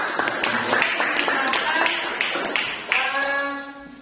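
Classroom applause for student group 3 during a biology lesson, a run of quick claps from a small group with a voice talking over it near the end.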